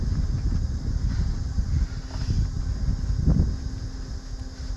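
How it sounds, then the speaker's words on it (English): Steady outdoor wind buffets and rushes across the microphone beside an excavator undercarriage being welded, a continuous low rumble with gusts that swell and fade, no talk. "And the wind's blowing, so it's taking my gas."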